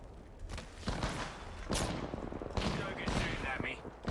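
Gunfire in the Apex Legends battle royale game, with dense bursts of shots and impacts crackling through the whole stretch, fairly loud and busy.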